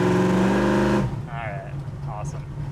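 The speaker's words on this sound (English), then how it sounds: "You guys want to hear the cutouts again?" A 1976 Chevrolet Monte Carlo with a 572 big block and open exhaust cutouts gives a loud, deep, close rumble for about a second, then stops sharply; a person talks over the quieter background afterward.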